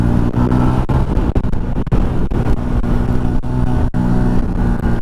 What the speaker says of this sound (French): Alors il y a encore un mec en moto,